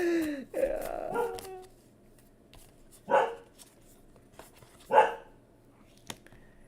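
A dog barks in a few separate loud bursts a couple of seconds apart, nearby and in an otherwise quiet room, with one drawn-out, whining bark at the start.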